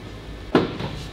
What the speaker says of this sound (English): Let's pop the door.